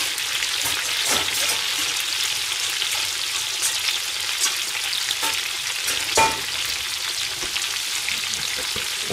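Chicken, wonton, sillago, potato, lotus root, eggplant, asparagus-corn fritters and fried tofu deep-frying in hot oil, a steady close, dense sizzle with scattered pops and crackles throughout and no talking.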